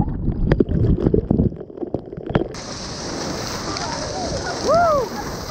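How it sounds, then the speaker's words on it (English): Rain falling during a hike near a waterfall, a steady hiss that takes over after a few seconds of rustling and handling noise, with voices briefly heard. "Oh, it's raining!"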